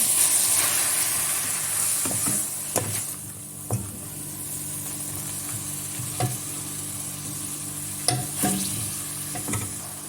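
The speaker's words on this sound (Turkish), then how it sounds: "Şöyle bir karıştırıp soğanla güzelce buluşturuyorum." Cabbage and onions sizzle steadily in a pot for Black Sea kale soup while a spoon scrapes and stirs them in a few separate knocks, close and fairly quiet.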